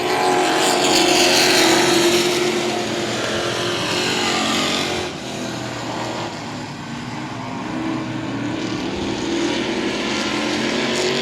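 Dirt trucks in the Texas Dirt Truck Series race at I-37 Speedway, a steady loud roar of several engines blending together down the back straight, swelling and fading slightly as the pack passes.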